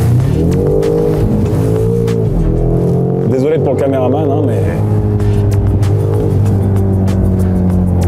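BMW M5 car on the road, its engine droning and revving steadily throughout with a rising pitch sweep midway, heard loud and close under continuous talk.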